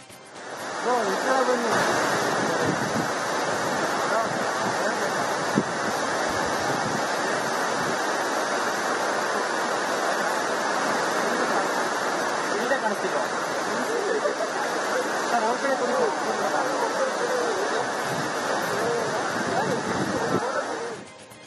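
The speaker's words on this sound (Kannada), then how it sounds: "ಜಲಾಶಯ ಭರ್ತಿಯಾಗಿ ಜಲಾಶಯದಿಂದ ನೀರು ಹರಿದು ಹೋಗ್ತಾ ಇದೆ" Water from a full reservoir at Jog Falls pours down in a loud, continuous roar, a dense rushing wash with no breaks, heard close.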